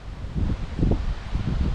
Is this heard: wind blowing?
yes